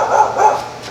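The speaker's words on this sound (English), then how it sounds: "Oh my god, dogs barking." A couple of muffled dog barks, two soft woofs in quick succession, somewhat distant with no talking.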